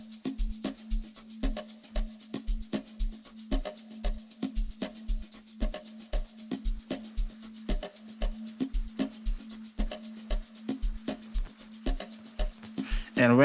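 A sustained sonar-style tone sits under a repeating Amapiano beat intro, with steady kick pulses and percussive hits looping regularly throughout, loud and close, building tension with no voices.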